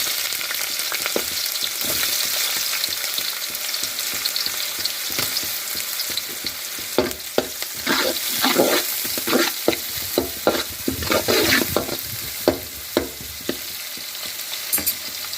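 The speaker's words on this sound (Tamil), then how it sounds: "இதையெல்லாம் லைட்டாக ஃப்ரை பண்ணி விடுவோம்." Onion, carrot, beans and green chillies sizzling steadily in a hot pan, with frequent scraping and stirring strokes from a spatula, close and fairly loud.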